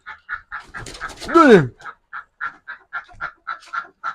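Country chickens at a park in Jaffna call in quick, evenly spaced clucks, interrupted by one louder drawn-out squawk that falls in pitch.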